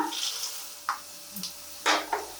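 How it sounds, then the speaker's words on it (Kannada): Peanuts and roasted gram frying in a pan as they are stirred, with a soft sizzle and several short scraping stir strokes spaced apart. "ಹುರುಗಡ್ಲೆ ಹಾಕಿ ಅದನ್ನ ನೀಟಾಗಿ ಫ್ರೈ ಮಾಡ್ಕೊಳ್ಳೋಣ"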